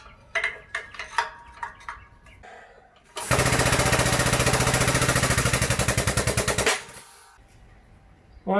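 An Edwards Multi Shear on a Harbor Freight 20-ton shop press cuts half-inch aluminum round stock: a few sharp taps, then a loud, rapid rattling grind for about three and a half seconds before it stops abruptly.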